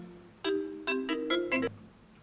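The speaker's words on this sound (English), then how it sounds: "What's that, my phone ringing?" A short, quiet electronic phone ringtone plays a quick run of bright melodic beeps, then stops, leaving near silence.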